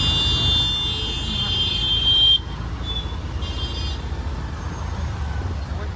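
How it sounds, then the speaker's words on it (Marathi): Congested road traffic in Porvorim, Goa, a steady engine rumble with a bright horn blaring loudly over the first two seconds, then a shorter horn tone returning briefly, all under a continuous low roar. "आत्ता पोचलोय आम्ही परवरीत आणि एवढा ट्रॅफिक."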